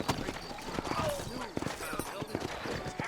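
Horse hooves clip-clop in an irregular, close rhythm in the western video game Red Dead Redemption, with a voice talking over them.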